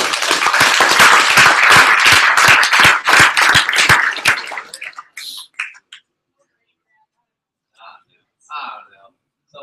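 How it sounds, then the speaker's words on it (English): A room full of people applauds a top startup at a business breakout session, loud rhythmic clapping for about four seconds before it stops abruptly, followed by quiet with brief murmurs and soft voices. "Can we give a round of applause for our top startup?"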